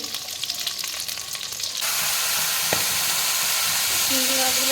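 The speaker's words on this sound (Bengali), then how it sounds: "আলুগুলো একটু ভেজে নিয়ে আগে" Potato pieces hit hot oil for a winter-vegetable rohu fish curry. A quiet, scratchy start gives way to a loud, steady, close sizzle that keeps going, with a brief clink in the middle.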